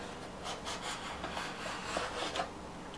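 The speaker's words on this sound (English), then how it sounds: "take a scrap piece of foam and just remove it, rubbing it away" Scrap foam scrubbing excess glue off a model Cessna wing, a steady close dry rubbing and rasping that swells in repeated strokes for three seconds, with no talk.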